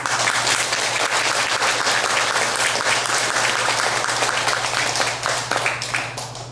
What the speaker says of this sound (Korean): 마갈타국을 위해서 박수를 한번 보내주십시오